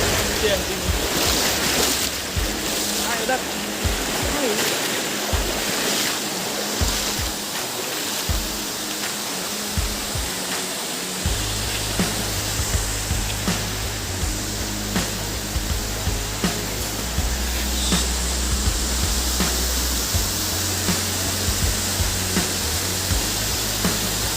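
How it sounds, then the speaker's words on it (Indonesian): Rushing river water at Tumpak Sewu waterfall roars steadily and loud throughout, a dense continuous wash with a low hum entering partway through. "saya harus melewati derasnya air sungai"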